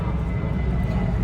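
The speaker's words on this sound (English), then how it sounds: "you can probably hear the planes going by" Airplanes passing overhead near an airport, a steady low broadband engine roar that fills the background continuously, with a voice faintly mixed in.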